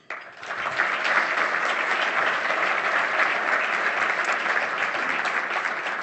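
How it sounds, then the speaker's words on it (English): A room full of people at a Canadian Olympic Committee event gives a sustained round of applause, dense and steady for several seconds, with no speech over it. "I know you will all join me in honoring them appropriately with a great round of applause."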